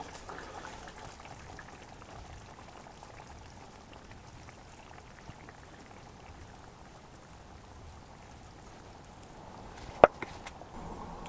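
Soft bubbling of a pot of Tamil dal dumpling curry simmering steadily, with a sharp clink near the end.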